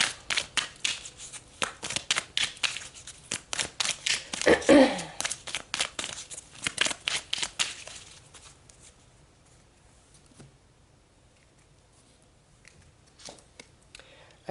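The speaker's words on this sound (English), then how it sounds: "Let's pull some more cards." Tarot cards are shuffled up close in rapid bursts of riffling and flicking for several seconds, then the sound thins to a few scattered taps and card slides.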